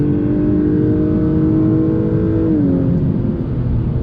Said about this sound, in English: Nice smooth shift from the 10-speed, feeling good. Getting the power down with the super handling all-wheel drive.